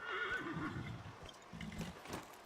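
A horse in Dragon Age Inquisition gives a loud, close whinny that rises and wavers, followed by a second shorter neigh and light hoof clip-clops, with no talk.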